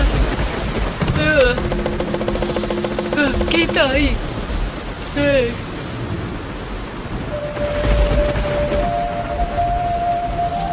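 A rainstorm with thunder in a children's cartoon, with steady rain noise and low rumbles running throughout while cartoon voices and music play over it.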